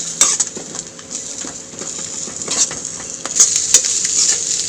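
Spicy egg rice masala frying in a pan, with a steady hiss of sizzling oil and repeated scraping and clinking of a spatula stirring against the metal, close and fairly loud, with no talking.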